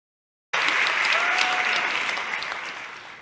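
Applause bursts in suddenly after a moment of silence, a dense crowd clapping steadily and loudly, then slowly thinning toward the end.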